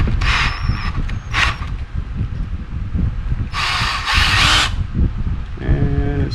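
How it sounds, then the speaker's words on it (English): A power drill spins a brass tube sharpened at one end, held in its chuck, with several short loud whirring bursts between quieter handling sounds and a brief rattling wobble at the end. "this is a tube chucked up in the drill"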